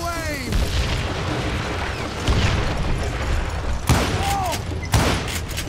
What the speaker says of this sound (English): You can shoot, but can you aim?